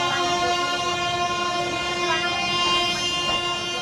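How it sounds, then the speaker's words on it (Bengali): Train 22588, on its return run from Benaras to Sealdah, pulls into Asansol Junction with a loud, steady rolling rumble and a droning tonal hum throughout, up close and without speech. "অবশেষে আমাদের ট্রেন 565 কিলোমিটার যাত্রা শেষ করে আসানসোল জংশনে এসে পৌঁছলো"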